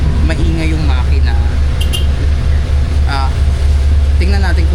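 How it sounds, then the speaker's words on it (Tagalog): A jeepney engine rumbles loud and steady from inside the vehicle, a constant low drone beneath people talking throughout. "kahit na maingay yung makina ng jeep"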